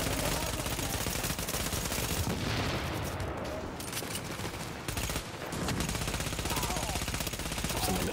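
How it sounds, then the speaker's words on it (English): A turret hammers out sustained automatic fire in Tom Clancy's The Division, a dense, loud, continuous rattle of rapid shots that barely lets up, with brief dips and occasional voices mixed in. "Oh, that's a turret."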